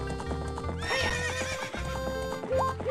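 A horse in Zelda: Ocarina of Time neighs loudly, with a rising whinny, over steady galloping hoofbeats and game music, close and continuous throughout.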